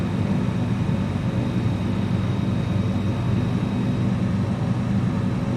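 Aeroplane engine in Microsoft Flight Simulator, a steady, even drone with a low rumble that holds constant throughout, no voices.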